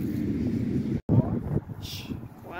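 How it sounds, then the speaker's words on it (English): Outdoor wind buffets the microphone in a steady low rumble, loud and close, with a short dropout midway and faint voices in the background. "The wind is blowing my hair."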